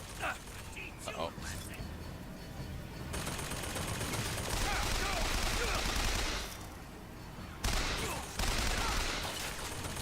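A gun fires in the video game BioShock, sustained automatic bursts with a mechanical clatter, broken by short pauses, while a voice talks over the shooting.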